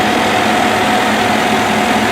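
A GMC Yukon XL Denali's Vortec 6.2-litre V8 running steadily, a loud, close, continuous engine drone with an even hum and no breaks.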